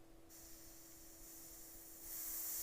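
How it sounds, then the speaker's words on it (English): An orange paint airbrush sprays on its own, giving a steady hiss that swells louder near the end, with no voices. "So the orange, is this brush spraying by itself?"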